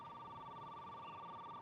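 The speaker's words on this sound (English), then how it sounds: "Excuse me, that's my private phone." A private telephone rings with a steady electronic tone, faint and continuous, in a quiet indoor room.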